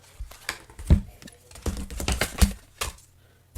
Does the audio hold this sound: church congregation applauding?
no